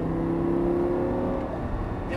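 An Audi R8 V10 on a racing circuit pulls hard after an upshift, a loud continuous engine whine and roar heard from inside the car, rising and then slightly shifting in pitch.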